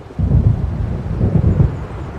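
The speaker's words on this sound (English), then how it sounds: "It seems there's a storm coming." Low, rolling thunder from an approaching storm in Alan Wake Remastered rumbles through a short stretch, swelling in two heavy surges before easing off, with no voices.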